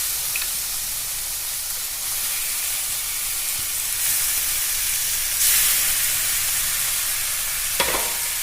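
Steady, bright sizzling of spices with turmeric and sugar being fried down in a pan for Bengali mutton kosha, with a few stirring scrapes and a brief surge of hiss partway through.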